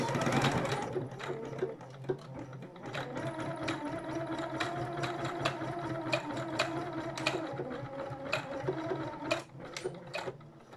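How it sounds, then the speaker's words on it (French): A sewing machine stitches a beret seam, running in a steady mechanical whir with rapid rhythmic needle clatter and brief pauses, close and continuous. "Et je viens coudre."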